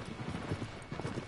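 Horse hooves clip-clop as the steed trots across the ground in Shadow of the Colossus, a brisk, even run of soft thuds at moderate distance, fairly quiet with no talk over it.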